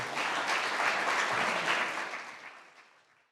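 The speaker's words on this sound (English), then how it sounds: "Let's give a round of applause to Dr." An audience at a talk on Catholic social teaching and climate change applauds for a guest speaker, a steady mass of clapping that holds for under two seconds and then fades out quietly.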